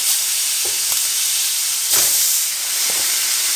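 Pork chops for a barbecue sandwich sizzling on a grill, a loud steady hiss with a few soft knocks as they are flipped, no speech.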